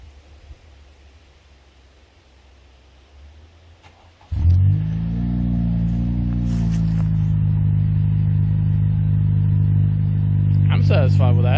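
A 2019 Honda Civic EX with its mufflers cut off starts at about four seconds and settles into a loud, deep, rumbling idle with a throaty, unmuffled tone that holds steady throughout.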